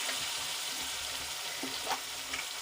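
Chili sizzles steadily in a pan after lemon juice is added, with a soft scrape or two of a spoon as it is stirred. The frying hiss is continuous and close.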